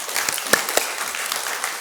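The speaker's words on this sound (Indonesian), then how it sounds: "Boleh dong tepuk tangan untuk Tuhan Yesus." A church congregation at a Christmas Sunday service applauds, a dense wash of many hands clapping steadily with a few sharper claps standing out, moderately loud and close.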